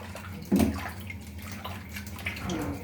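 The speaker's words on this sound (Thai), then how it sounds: "ล้างเลยๆเยอะๆจะได้ไม่คาว" Fish meat being washed by hand in water, a brief close splash and slosh followed by softer trickling and swishing in the basin.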